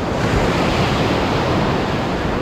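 Sea waves break continuously on the shore in a loud, dense roar mixed with wind buffeting the microphone, with no voices.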